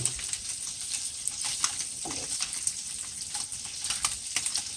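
A ham, egg, tomato and cheese breakfast filling fries in a pan, giving a soft, steady sizzle with scattered light clicks from stirring and turning, fairly quiet and close.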